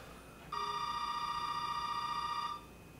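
A telephone rings inside the Resident Evil 7 video game: one steady, sustained electronic ring tone that lasts about two seconds, clear and fairly loud over a low background hum.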